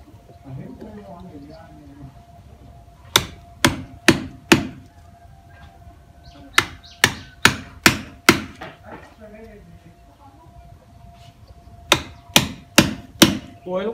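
A chisel is hammered into the wood of a tree being cut up, struck in several quick bursts of three or four sharp, close blows with pauses between, while a person talks quietly in the background.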